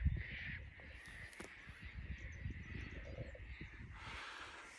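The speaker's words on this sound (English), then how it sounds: "Plenty of birds out today." Crows caw outdoors on a farm near a dam, faint and distant calls over a low, windy outdoor background with some rustling and handling noise close by.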